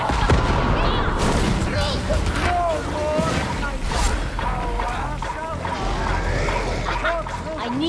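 Gunfire in a Warhammer 40,000 game played as a veteran recon, with dense bursts of shots mixed into a noisy battle soundscape, partly under talk.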